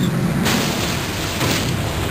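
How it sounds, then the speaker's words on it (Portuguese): The Bismarck battleship's naval guns fire salvos, heard as two heavy booms about a second apart. Each boom is followed by a broad roaring wash, loud and dense, with no speech. "Quando você atira a 25 quilômetros, são salvas de artilharia."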